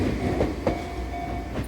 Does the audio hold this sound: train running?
yes